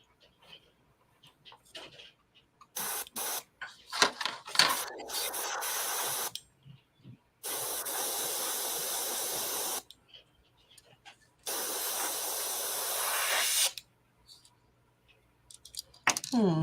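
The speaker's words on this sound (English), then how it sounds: "I think I fixed my airbrush again." An airbrush sprays in bursts, a sharp hissing rush of air that starts and stops abruptly several times, with long sprays in between shorter puffs, clicks and handling sounds, close to the mic, with talk nearby.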